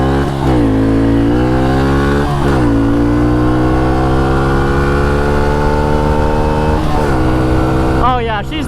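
A tuned pit bike launches from a dig, its engine screaming and climbing in pitch through repeated loud, close revving surges, with a sharper burst near the end.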